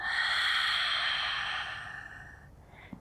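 A single slow, breathy exhale during Pilates diaphragmatic breathing, close and soft, fading out over a few seconds into near silence.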